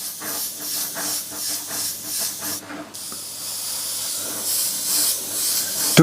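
A Gaahleri Mobius 0.2 mm airbrush sprays Createx illustration paint in a steady close hiss with brief pulses as the trigger is worked, pausing for a moment before running on continuously.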